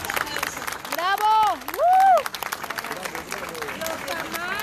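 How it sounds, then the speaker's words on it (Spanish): Applause for a speaker at the inauguration of a new naturism center, mixed with loud whooping cheers and whistles in two bursts, with crowd noise and voices around it. "¡Un fuerte aplauso!"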